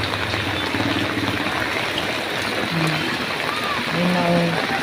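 Rain falling steadily on a flooded street, a continuous broad hiss and wash of water, with people talking nearby throughout.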